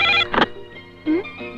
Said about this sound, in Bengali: ডলি, তোর ফোন